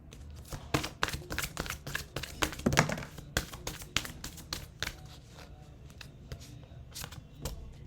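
A deck of oracle cards being shuffled by hand, a rapid series of crisp riffling snaps and flicks in irregular bursts, close to the listener, with no talking.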